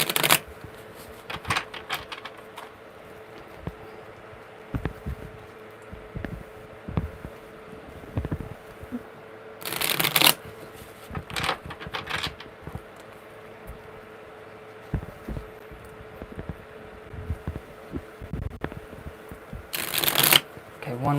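Tarot cards being shuffled by hand in bursts of crisp riffling and bridging, with quieter rustling and card taps between the louder flurries; no talking over it.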